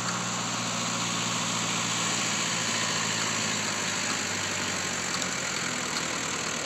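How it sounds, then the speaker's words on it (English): A tractor engine runs close by, a steady low idling rumble with mechanical vibration that stays loud and unbroken throughout, with no talking over it. "Pardon the tractor."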